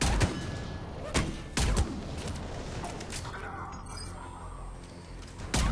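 Sniper rifle fire in Mass Effect 3: a few sharp, loud single shots spaced seconds apart over a continuous game backdrop.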